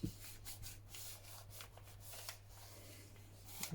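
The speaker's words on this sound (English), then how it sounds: "Slide that to the bottom and press it home." A glued paper triangle slides into a papercraft envelope folio and is pressed flat, heard as soft, close rubbing and brushing strokes in several quick passes, faint and without talk.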